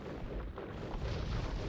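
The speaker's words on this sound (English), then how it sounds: "Another go in the center again, and all those bombard cannons" Bombard cannons firing in Age of Empires, a dense rumbling roar of heavy blasts and booms blending into a continuous low barrage with no distinct separate shots.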